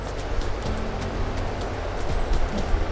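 Wide creek running full after recent rain beside a campground: steady broadband rush of flowing water with a low rumble, continuous and fairly close.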